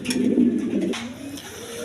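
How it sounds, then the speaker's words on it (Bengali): A pair of pigeons, Jacobin and Maltese, coo up close, with a strong low coo followed by softer ones. "দর্শক এখানে আরেক পেয়ার কবুতর আছে"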